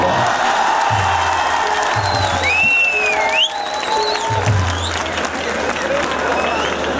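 An audience at an international laughter conference in Ujjain claps steadily, with whistles and scattered cheers rising over the crowd, while voices carry on amid the applause.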